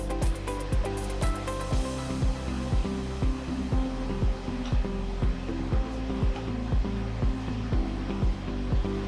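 MILLPWR G2 controlled milling machine axes moving in turn to find home: a steady motor whine with regular clicking pulses about every half second, continuous and close, no talk.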